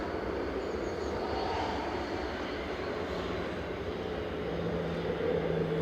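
Engines of a Jet2 Boeing 757 lined up for departure on runway 05 left at Manchester Airport, heard as a distant, faint, steady rumble.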